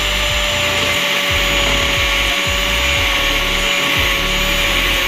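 An angle grinder cuts an iron part for a 5mm shaft connector, a loud continuous high whine whose motor pitch sags and recovers in repeated dips as the disc bites into the metal.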